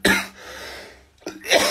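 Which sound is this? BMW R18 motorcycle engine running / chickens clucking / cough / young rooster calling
cough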